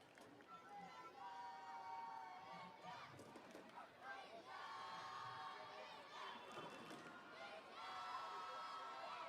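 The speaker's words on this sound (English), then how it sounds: "You can hear the crowd roar" A stadium crowd roars and chants during a youth under-17 Asian Cup qualifier football match between Iran and India, a steady, dense wall of shouting and cheering that swells in waves throughout.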